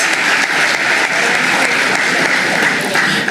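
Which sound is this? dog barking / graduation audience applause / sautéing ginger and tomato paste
graduation audience applause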